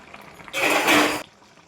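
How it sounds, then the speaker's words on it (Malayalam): Water pours steadily into a pot of jackfruit and pork for about three-quarters of a second, a loud close splashing rush that stops abruptly. "നന്നായി വെള്ളം ഒഴിച്ചു കൊടുക്കണം"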